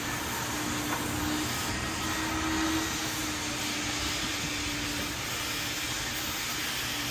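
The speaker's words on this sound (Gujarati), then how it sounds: "વેક્યુમ કરી નાખ્યું ગાડીમાં." A vacuum cleaner running inside a car gives a continuous, even roaring hiss with a faint steady hum, loud and unbroken throughout.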